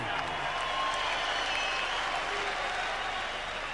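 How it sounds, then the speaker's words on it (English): Crowd applause in a Las Vegas boxing arena after the Amir Khan vs Marcos Maidana fight, a sustained roar of clapping and cheering from a big audience, steady and dense throughout. "how about a big round of applause for the effort out of these 2 warriors in the ring"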